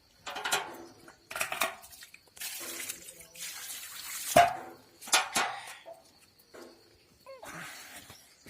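Water splashing and trickling in bursts, as if poured out for farm animals at a Himachali hill home, with a few clanks of a metal vessel in between.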